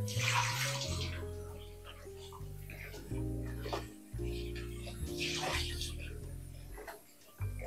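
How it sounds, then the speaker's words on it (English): Water runs and splashes in a kitchen sink as a salted pigtail is rinsed and drained before boiling for a stew, a steady close rushing with brief pauses and a voice talking at times. "We're just going to drain off the water of our pigtail. We're going to just rinse it just a little bit"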